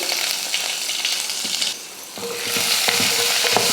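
Onion, mustard seeds, urad dal, curry leaves and dried red chillies sauté in hot oil with a loud close sizzle that dips briefly, then returns with crackling and stirring scrapes.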